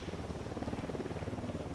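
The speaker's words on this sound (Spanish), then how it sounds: "Ya estamos con el helicóptero." A helicopter's rotor in Ghost Recon beats in a fast, even, pulsing thump, fairly faint and continuous throughout.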